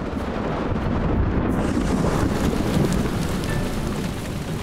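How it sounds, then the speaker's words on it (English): Heavy rain pours steadily as a loud, dense and continuous wash of noise with no voices and no break across the whole stretch. "the summer solstice heralds heavy rain"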